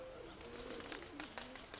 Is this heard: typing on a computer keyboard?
no